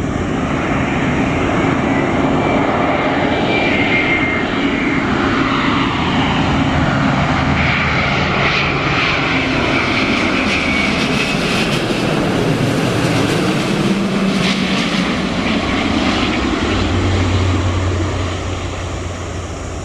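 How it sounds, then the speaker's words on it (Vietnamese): A loud airliner roars in on landing approach to runway 29L at Noi Bai airport, passing close overhead with a sweeping, building engine whine that sustains throughout and eases slightly at the end. "Ở đây có thể thưởng thức trọn vẹn âm thanh tiếng máy bay"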